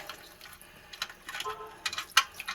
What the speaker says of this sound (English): you can see that there's water flowing